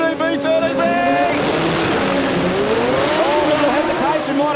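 Two drag race cars with 13B rotary engines and clutches launch together at full throttle, a loud, continuous raw revving roar with rising engine pitch and tire squeal, while a commentator talks over the noise.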